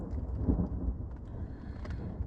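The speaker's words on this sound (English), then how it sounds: "So it's thunder and lightning," Low rumbling thunder rolls close by, with rain pattering on a rooftop tent and wind buffeting the microphone, at a campsite on the Mid North Coast of New South Wales.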